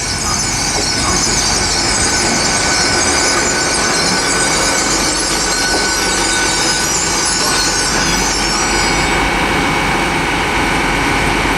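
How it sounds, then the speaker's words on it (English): Great Western Railway Class 800 train at Bristol Parkway station, a sustained loud roar and hiss of the train moving through the platform, with a bright high whine that fades out near the end. "arriving now is the delayed 1303 Great Western Railway service"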